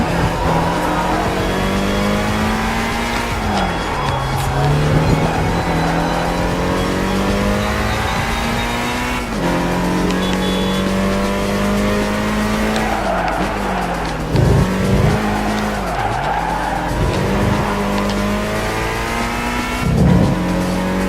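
Race cars lapping a track in the Gran Turismo 5 driving game, a steady loud engine drone with gear-shift pitch dips and brief tyre squeals, continuous throughout with no talk.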